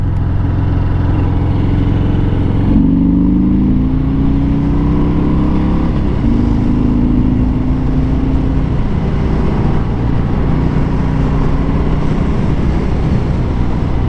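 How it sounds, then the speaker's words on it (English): A motorbike engine runs loud and close while riding, with a deep steady rumble and rising, falling revs, and heavy wind noise throughout. "That's a motorbike."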